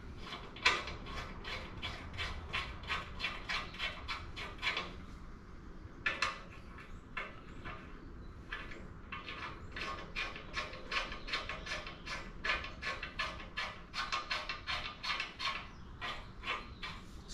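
Rapid ratcheting clicks come in bursts as bolts are fitted to a rack on a Specialized Globe Haul ST cargo bike, close and clear with short pauses between runs.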